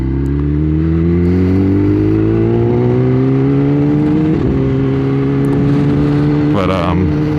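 A Kawasaki ZX10-R sport motorcycle engine under way on a night ride, a loud close steady drone that rises slowly in pitch as it accelerates, with wind noise throughout.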